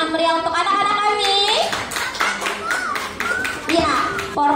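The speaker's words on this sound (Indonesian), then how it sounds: "berikan tepuk tangan meriah untuk anak-anak kami" Audience clapping for young children at a kindergarten performance day, brisk clapping mixed with children's chatter and adult voices throughout.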